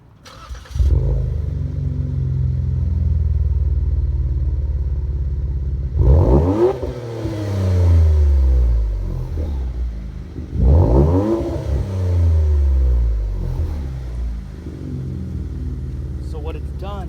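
Ford Fusion fitted with a sport exhaust gives a steady low growling drone, swelling with two throaty revs midway through, close and loud with no talk over it.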